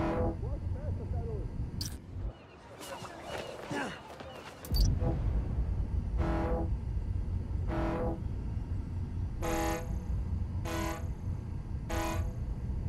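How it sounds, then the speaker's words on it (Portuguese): Ferry horn in the Spider-Man: Miles Morales video game, sounding in several short repeated blasts from about 6 s onward after a louder blast around 2 s, over steady game background noise with talk earlier. "Buzina de balsa!"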